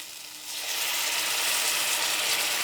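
Pasta cooking water poured into a hot pan sauce with capers and pieces of Fourme cheese, setting off a loud, steady hiss and sizzle that swells after a brief quieter start and holds close and continuous.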